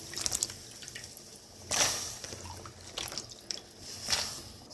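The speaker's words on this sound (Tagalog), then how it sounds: "Ilagay na po natin itong carrot at potato." Carrot and potato pieces drop into a pot of boiling water for soup, giving a few soft splashes and drips, with two louder plops standing out over a faint bubbling background.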